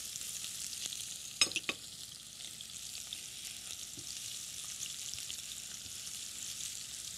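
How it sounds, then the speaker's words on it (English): Cumin roasts and onions fry in a pan, giving a soft, steady sizzle with a couple of sharp utensil knocks near the start. "So roasting it, and then adding the onions."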